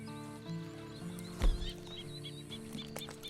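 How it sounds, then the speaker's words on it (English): A horse in the video game Red Dead Redemption 2 snorts and whinnies once amid soft hoof clops, set against a low droning game background. "And you better get on this horse."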